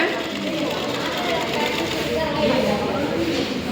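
A sewing machine runs steadily, stitching a blouse with a continuous mechanical whir throughout, close and fairly loud.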